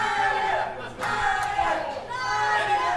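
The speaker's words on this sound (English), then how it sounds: "I think the crowd is informing Jake that is in fact not what happened." A wrestling crowd at a CPW Showdown event shouts at a wrestler, a dense roar of many voices swelling and dipping in waves, loud and continuous.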